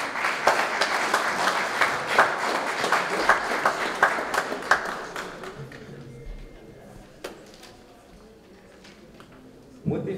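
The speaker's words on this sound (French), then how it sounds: "J'ai demandé pour m'applaudir." A gala audience breaks into lively applause, with clear individual claps for about five seconds before the clapping thins out and fades into quieter room noise with some murmuring voices.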